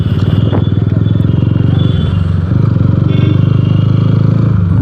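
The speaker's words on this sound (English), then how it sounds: "I've changed my exhaust to aftermarket one." Sports motorcycle fitted with an aftermarket slip-on exhaust, running steadily near the listener with a deep, throbbing idle-like drone and slight rises in revs, no talk over it.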